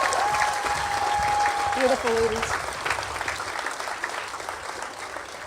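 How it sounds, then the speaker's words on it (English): Audience applause for guest speakers at a high school graduation, a full crowd clapping continuously while a speaker briefly talks over it, slowly tapering off. "I think we need to give a round of applause to all of our guest speakers."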